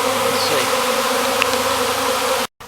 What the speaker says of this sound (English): You see these killer bees, don't you?